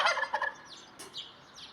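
A turkey gobbles in a rapid, rattling burst, followed by a few thinner, higher calls. It is fairly close, with no one talking.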